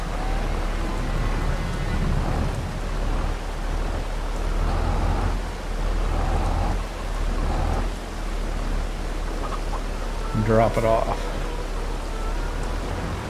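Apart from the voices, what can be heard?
rain in video game Farming Simulator 22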